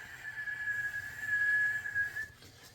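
A person imitates a tea kettle with a single sustained, steady, high-pitched whistle lasting about two seconds over faint background hum, fairly quiet and without speech.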